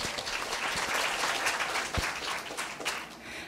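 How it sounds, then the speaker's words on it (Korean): Audience applause welcoming a middle school student speaker at a speech contest, a moderately quiet, continuous patter of many hands with a few sharper claps standing out. "큰 박수로 맞아주세요."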